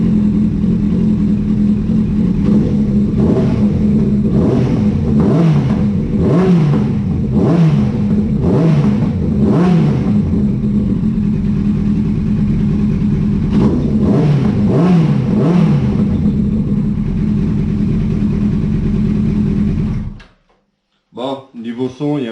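Yamaha R1 sport motorcycle fitted with an aftermarket eBay exhaust, running loud and close with repeated throttle blips and revs rising and falling for about twenty seconds before cutting off.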